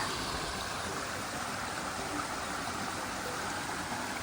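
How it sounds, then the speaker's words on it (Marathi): Water trickles and splashes steadily from a small natural stream in the lush Konkan countryside, a continuous broadband rush with no voices, close and even throughout. "यातनं मस्त पाण्याचं झरणं आहे"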